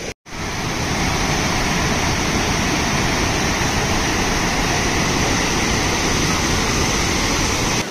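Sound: Kanthapara waterfall

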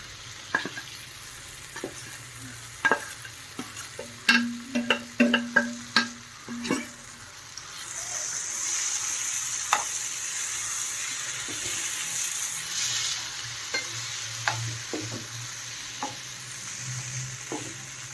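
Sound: ground chana dal cooking with tomato in a pan

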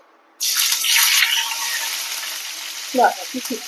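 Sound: onion added to hot oil with cumin and chilli, frying

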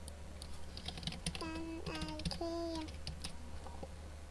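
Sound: typing on a keyboard

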